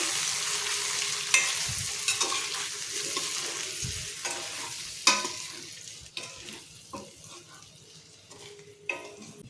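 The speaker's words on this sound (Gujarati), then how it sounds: "આપણે મસાલો બનાવેલો છે એ આપણે અંદર નાખી દઈશું। બધું જ આપણે મિક્સ કરી લઈશું।" Whole onions being stirred with a prepared masala in hot oil for Kathiyawadi stuffed onion curry, giving a steady frying sizzle with scraping stir strokes and occasional pan knocks, no talk.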